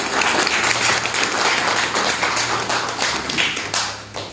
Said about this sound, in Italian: gli manderei un applauso.